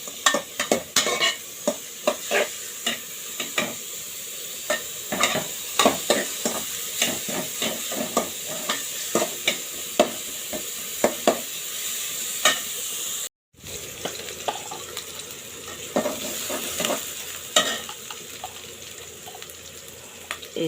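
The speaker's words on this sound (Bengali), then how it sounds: "এটা আমি এখন খুব সুন্দর করে ভেজে নিব।" Hilsa fish curry with eggplant and potato being fried in a pan: a steady close sizzle under repeated scraping stir strokes that come in an uneven rhythm, with a brief dropout partway through, and no talking.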